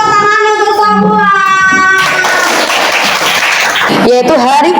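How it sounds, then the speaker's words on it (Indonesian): A classroom of students bursts into applause for about two seconds, a dense wash of clapping set between stretches of a teacher's sung and spoken voice. "beri tepuk tangan untuk semua"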